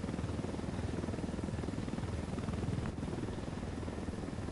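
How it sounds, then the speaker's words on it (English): Steady, dense rotor chop and engine roar of a helicopter in the Ghost Recon: Wildlands video game, loud and constant throughout with no speech. "Getting in the chopper!"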